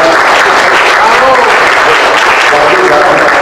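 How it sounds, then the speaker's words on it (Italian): Applause from a conference audience, dense and continuous clapping that stays loud and even from start to finish. "vorrei un applauso"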